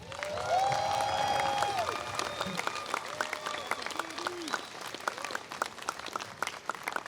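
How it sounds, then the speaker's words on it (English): An outdoor university commencement crowd breaks into sustained applause, a dense wash of clapping with a few whistles rising above it, then gradually thins out. "May we also give them a round of applause."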